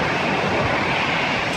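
Steady broadband roar of an Air France jet airplane engine, loud and constant, as if from a plane powering up for takeoff.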